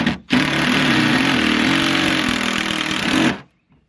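A power tool drives a screw into a 1965 jon boat, a loud, steady whirring burst lasting about three seconds before cutting off abruptly into near silence.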